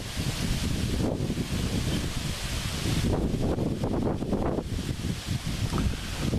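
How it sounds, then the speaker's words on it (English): Steady broadband wind rushing and buffeting across the microphone, constant and fairly loud throughout, with no voices. "So it's kind of windy today, a little bit cooler."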